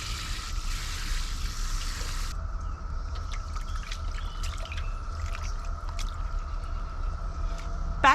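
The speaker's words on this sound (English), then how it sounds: "We're going to go ahead and we're going to add water" Water is poured over freshly foraged honeysuckle flowers to wash them, a soft, continuous trickle and splash with scattered drips, faint and close, with no talking.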